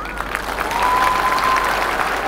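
A large audience claps through an ice show at a Universiade 2019 event, loud, dense applause filling the arena, with a thin sustained tone in the background.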